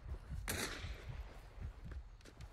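A single sharp gunshot cracks out in the Hunt: Showdown video game. It is followed by quieter, irregular low thuds in a fairly faint, distant-sounding scene.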